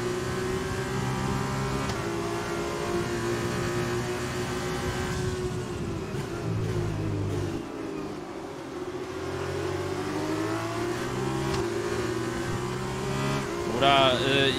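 F2 race car engines in the F2 2020 racing game, a loud sustained high-pitched whine rising and falling through gear changes, with other cars buzzing nearby and someone talking over it.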